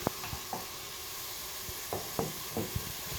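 Blended tomato sauce with spices, for a moussaka with béchamel, sizzles faintly in a hot pan while a spoon stirs it, adding intermittent soft scrapes and clicks over a low, even frying hiss.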